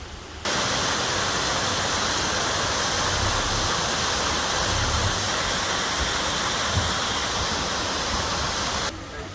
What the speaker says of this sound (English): Mill Creek Waterfall.